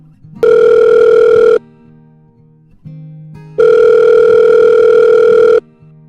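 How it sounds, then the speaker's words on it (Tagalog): A mobile phone rings loudly in two long electronic tone bursts separated by a quiet gap, clear and close with no talking. "Napabaling ang atensyon ko nang bigla nag-ring ang phone ko."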